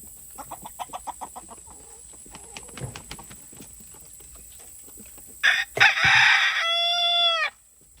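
Backyard chicken coop with hens and a rooster, heard as a run of short rhythmic clucks early on, then a loud burst of squawking and a sustained, harmonic crow near the end, close to the microphone.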